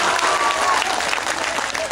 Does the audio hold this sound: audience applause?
yes